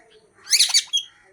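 A pet parrot lets out a short, loud, shrill squawk up close, a harsh burst followed by a quick second shriek in an otherwise quiet room.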